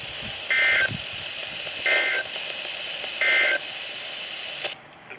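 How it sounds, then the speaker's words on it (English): A NOAA Weather Radio warning alarm test sounds as three loud, steady electronic tone bursts at even intervals, each lasting about half a second, over a constant broadcast hiss. "this is a test of the NOAA Weather Radio's warning device"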